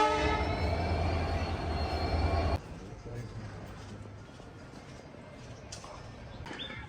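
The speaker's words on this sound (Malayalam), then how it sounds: "അപ്പോൾ ഇതാണ് കുലം റെയിൽവേ സ്റ്റേഷൻ." A train at Kulem railway station in Goa, a loud sustained horn blast for the first few seconds giving way to a lower rumble of the train, with faint birds in the background.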